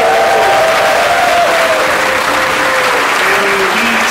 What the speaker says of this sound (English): Please welcome to the stage with a huge round of applause